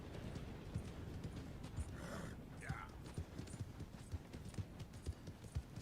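Hooves of a black snowflake Appaloosa horse in a PS4 video game clip-clop in a steady rhythm of soft thuds, with a brief whinny-like call midway, moderately close over a quiet background.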